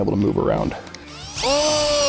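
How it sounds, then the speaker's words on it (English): Cordless drill driving screws into a NuCanoe Flint kayak hull to mount a rod holder, a rising whine that ramps up and holds steady at close range, following a stretch of talking. "I am just using the drill to get them in."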